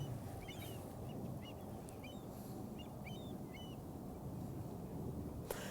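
Avocets give thin, repeated calls near open water, faint and somewhat distant over a steady wash of wind and water noise.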